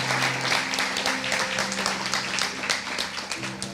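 A church congregation claps continuously in dense, sustained applause over a steady hum, filling a large room and holding constant for several seconds.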